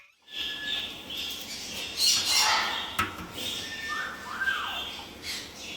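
Parrots squawk and screech in a room, with harsh calls and rising whistled notes that overlap continuously and stay fairly loud, with no speech.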